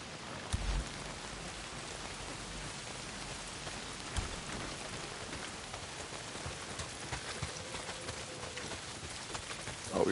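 Heavy rain in the Days Gone video game falls as a steady, loud, even hiss of drops on surfaces, with a few faint thuds and no talk.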